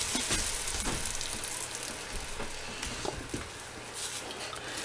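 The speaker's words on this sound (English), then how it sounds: "You just want to stir this around until it melts and begins to bubble." A mixture for homemade snacks is stirred around a pan as it melts, giving a soft sizzle with intermittent scraping and light patter, fairly quiet and close, no talking.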